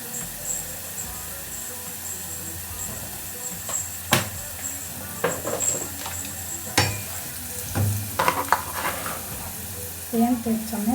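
Onion fries in a pan for an okra dish, a low steady sizzle punctuated by several sharp clinks and scrapes of a utensil against the pan, with a brief burst of other noise near the end.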